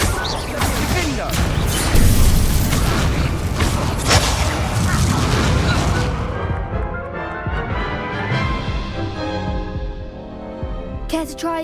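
A Confringo fire spell blast in the video game Hogwarts Legacy erupts in a loud, dense burst of crackling, booming noise that rumbles for several seconds, then fades into a lower lingering tail with a brief bright flicker at the end.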